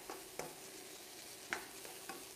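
Sliced lamb, onion and apple frying in a pan, a soft steady sizzle with a few light stirring scrapes at intervals, fairly quiet and without talk.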